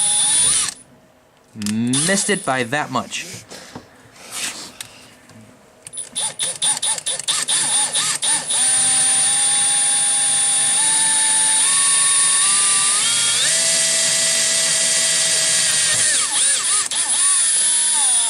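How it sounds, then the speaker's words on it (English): Power drill boring a hole for a RockLight bracket on an Arctic Cat/Textron Alterra 500 UTV, a steady loud whine with shifting pitch running several seconds, after brief speech and tool handling. "We're going to drill one more hole."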